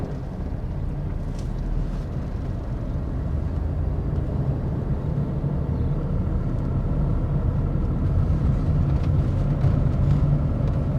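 A car driving toward a speed breaker, pulling away and moving up through first and second gear, gives a steady low engine rumble that builds slightly over time, with no voices.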